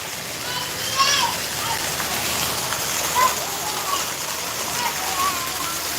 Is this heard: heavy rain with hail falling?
yes